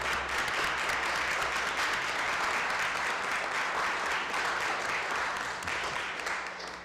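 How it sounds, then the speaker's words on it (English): A city council meeting room breaks into sustained applause, dense and even clapping from many people holding at full strength for several seconds before starting to taper off at the end. "if the room could give this group a round of applause"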